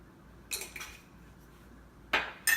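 Metal spoon scrapes and clinks against a pot while cinnamon and nutmeg are stirred into quinoa, a few short knocks spaced apart, fairly quiet and close, with no talking.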